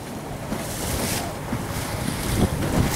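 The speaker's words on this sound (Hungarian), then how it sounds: "Szépen talpán megy a hajó." A sailboat moves through the water off Palamós, with loud, steady wind buffeting the microphone over rushing water and wave splashes, and no voices.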